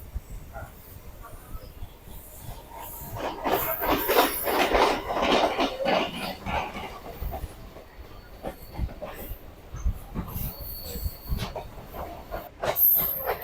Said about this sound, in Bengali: এই আমাদের ট্রেনটা কলকাতা স্টেশন ঢুকলো